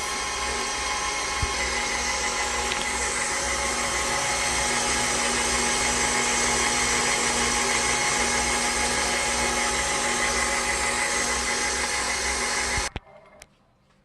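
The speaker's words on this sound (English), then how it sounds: "I'm just going to let it mix for about 4 minutes." An electric mixer whirs steadily as it beats red velvet cupcake batter with vegetable oil, a loud continuous motor drone that runs evenly before cutting off abruptly near the end.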